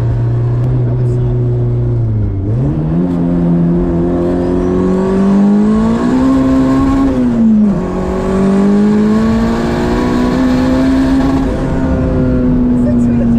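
Turbocharged Honda Civic running about 30 psi of boost accelerates hard through the gears, with a loud engine note rising steadily, dropping sharply at each shift and then climbing again. Heard from inside the car.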